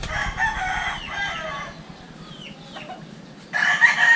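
A rooster crows nearby in Batangas, a loud strained call that fades, followed by a second crow starting up at the end.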